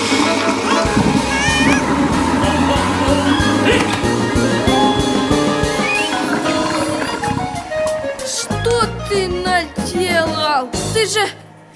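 A cartoon toilet flushes with a loud rushing, gurgling swirl of water mixed with musical score and animated character voices, ending in a few sharp plops.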